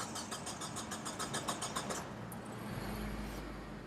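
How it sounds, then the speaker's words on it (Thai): A Mazda 2 manual car engine cranks in a quick rhythmic chatter for two seconds, then catches and settles into a quiet, low, steady idle nearby. "จะสตาร์ทให้ลูกค้าทุกท่านฟังเสียงกันนิดนึงนะคะ"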